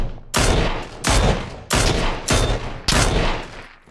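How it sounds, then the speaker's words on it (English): Rifle shots in PlayerUnknown's Battlegrounds, five loud, close gunshots spaced evenly about two-thirds of a second apart, each with a short echoing tail. "I hear shots coming from there."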